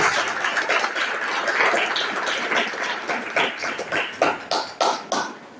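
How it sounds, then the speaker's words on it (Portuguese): A church congregation claps loudly and continuously, the sound thinning into a handful of separate sharp claps that trail off near the end. "Vamos aplaudir poderosamente a palavra de Deus."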